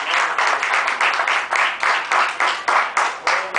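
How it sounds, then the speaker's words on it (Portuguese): Rhythmic group clapping from a church congregation, steady and fairly loud, with hands beating together in a regular pulse of roughly three claps per second throughout, no voices standing out. "as palmas louvam ao Senhor Jesus"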